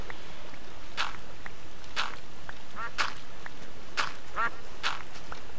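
A duck in the Minecraft video game gives short, sharp quacks about once per second, six or so in a row, over a faint steady background.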